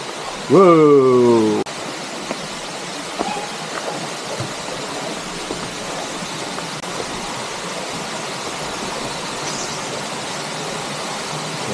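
Penchalakona waterfall, a tall falls in Andhra Pradesh, gives off a steady broadband roar that fills the scene, preceded by a short, loud, wavering voice-like squeal at the start.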